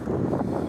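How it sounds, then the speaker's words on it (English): Gusty wind buffeting the microphone in an open parking lot beside a 1997 Roadtrek 190 Class B camper van, a brief, loud, rough roar with no other sounds. "Pardon the wind here, folks."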